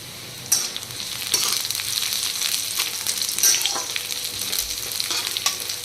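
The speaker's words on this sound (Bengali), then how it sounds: "এখন আমি এর মধ্যে কাঁচা লঙ্কা ঢেলে দিব।" Green chillies and garlic frying in a pan for garlic and black pepper chowmein, a steady close sizzle with occasional stirring clatters throughout, no voices.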